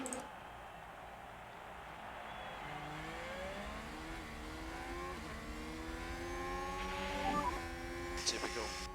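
Formula 1 cars in the F1 Manager 2022 game at the Belgium race start pull away together, engines climbing through the gears in rising whines that layer steadily over nine seconds, loud and continuous.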